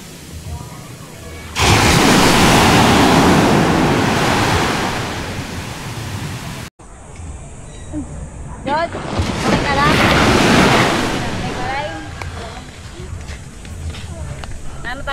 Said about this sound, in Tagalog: the sound of the wave, the environment, the sound from the surroundings